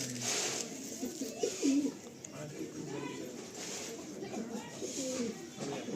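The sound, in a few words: Madrasi pigeons cooing in a loft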